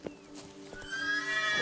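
In The Witcher 3 video game, the horse Roach neighs with a rising, drawn-out whinny near the end. Light hoof clip-clops come before it, with no talking.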